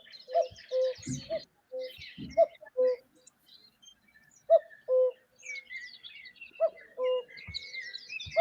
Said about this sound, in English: There's that little bird that make that cuckoo sound,